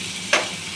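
Potatoes frying in a covered pan for a Bengali bottle gourd and prawn dish: a soft steady sizzle with one brief louder hiss burst midway, close and alone.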